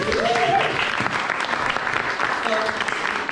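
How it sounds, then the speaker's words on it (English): Live audience applause for the technician Alex, continuous clapping throughout with a speaking voice layered over parts of it. "Big round of applause for Alex, our technician"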